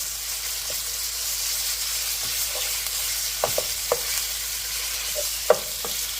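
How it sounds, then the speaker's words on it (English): Cold beef slices sear in a hot pan with chili, ginger and garlic, making a steady close sizzle broken by several sharp scraping and clinking stirs, with no one talking. "We just basically sear the beef. Get them lightly brown."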